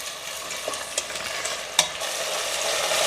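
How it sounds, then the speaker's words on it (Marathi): Potatoes and field beans are sautéed in a pan for a spiced masala rice, with a steady sizzle broken by several sharp scraping stirs of a spoon against the pan. "त्यातच आपल्याला पावटा घालायचा आहे, बटाटा घालायचा आहे आणि हे पुन्हा 2 मिनटं मी चांगलं परतून घेणार आहे."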